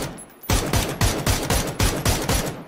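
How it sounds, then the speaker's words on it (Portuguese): Gunfire in the video game PUBG: a loud, close burst of rapid automatic shots with an even rhythm, roughly ten rounds following a short quiet lead-in. "Tiro seco"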